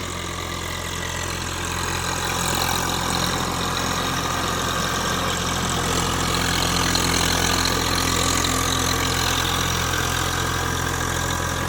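Swaraj 744 FE 4WD tractor engine running steadily in low gear while ploughing deep, muddy paddy field, a constant near diesel drone with knocking undertone that swells slightly midway and holds throughout, no voices.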